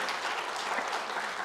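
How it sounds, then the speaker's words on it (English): Quiet applause from a keynote audience, a soft, even wash of clapping heard from a distance throughout the short stretch. "Please give her a round of applause as she joined us online."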